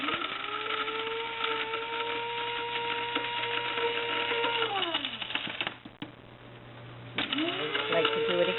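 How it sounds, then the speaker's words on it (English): An electric grinder pulverizing dehydrated tomatoes into powder whines at a steady high pitch, winds down and stops, then starts up again; a voice speaks over the motor. "I'm putting them in my grinder so I can make tomato powder."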